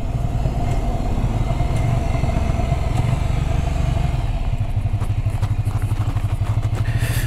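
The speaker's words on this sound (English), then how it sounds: "I like the fact that this is still an air-cooled engine" A 2023 Ducati Scrambler with an air-cooled engine idles close by, giving a steady, loud, even thrum with a light mechanical clatter that runs unbroken throughout.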